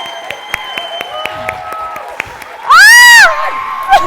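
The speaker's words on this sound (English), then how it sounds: "Give her a huge round of applause." An audience at a seminar graduation event bursts into a loud, sustained burst of cheering and whoops after a stretch of quieter crowd noise and scattered voices, then settles back to a lower murmur.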